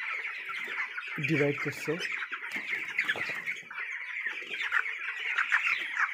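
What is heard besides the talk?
chickens clucking on a poultry farm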